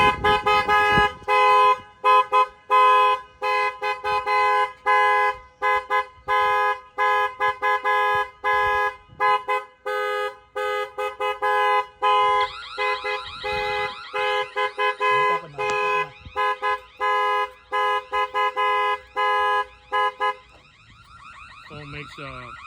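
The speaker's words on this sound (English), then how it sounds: "Makes like an alarm noise." A loud Jeep Wrangler Rubicon JL car alarm, set off by banging on the glass, blares in rapid repeated pulses for about twenty seconds, shifting patterns partway through before cutting off.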